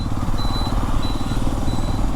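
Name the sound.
Xpulse 210 motorcycle engine at low speed in sixth gear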